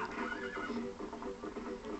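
A horse in the video game Zelda: Twilight Princess neighs in a long, shaky whinny, close and loud, with a faint clatter of hooves beneath.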